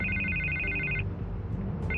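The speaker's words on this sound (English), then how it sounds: "I can't get the phone to stop ringing." A telephone rings in Batman: The Telltale Series, a steady electronic trill repeating for about a second, pausing, then starting again, heard clearly over a low game background hum.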